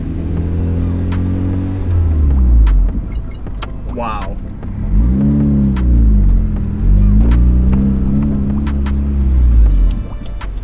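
A turbocharged Mazda Miata NB's engine idles loudly, a low, constant rumble with a brief rev midway and a person's short exclamation near the start.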